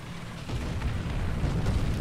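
Artillery explosions in the tank game War Thunder, a continuous deep rumbling roar with low booming swells building steadily, loud and without voices.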